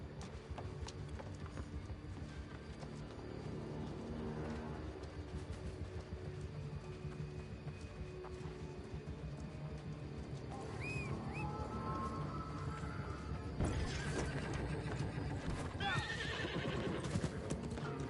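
Horse whinnies and hooves clip-clop in the New World fantasy video game, the neighs rising out of a steady background of game music and ambience, with hooves audible throughout.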